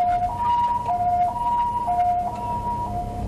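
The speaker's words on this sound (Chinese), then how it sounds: "救护车急忙地赶往医院，" An ambulance siren wails in a steady two-tone cycle, switching back and forth between high and low notes over road noise, moderately loud and sustained throughout.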